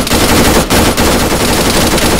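Continuous rapid video game gunfire, loud and close, in a dense unbroken burst with a couple of brief dips, no voices over it.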